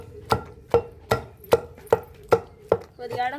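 Onions are chopped into pieces with a knife on a board, giving seven crisp, evenly spaced strikes about every 0.4 seconds, close and clear with quiet gaps between them.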